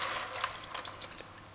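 Water is poured off red peas that have soaked for 30 minutes in a kitchen, a soft, steady splashing pour with no talking.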